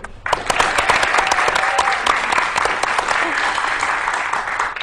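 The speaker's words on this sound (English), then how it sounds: "Let's give our teams one more round of applause" A quiz show studio audience breaks into applause for the competing teams, a crisp burst of many hands clapping that starts suddenly and holds steady and close throughout.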